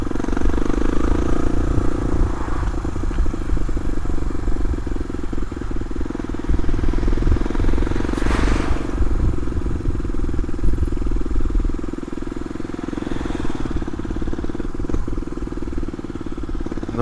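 A Suzuki DR250S motorcycle fitted with a Dominator R exhaust idles loudly and steadily up close, with a few brief revs swelling above the continuous engine chatter.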